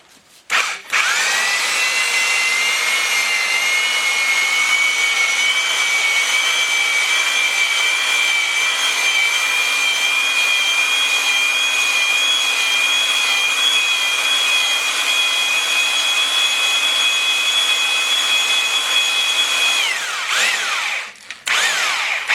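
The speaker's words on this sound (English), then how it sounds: "Matt's going to squirt some oil as we're going, and we'll get this block honed up" A Willys L-head engine block has its cylinders honed with oil squirted in, giving a steady, loud, high-pitched whirring drone that runs unbroken for about twenty seconds before winding down at the end.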